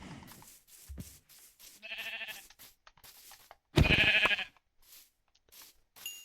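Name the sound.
sheep bleating in Minecraft video game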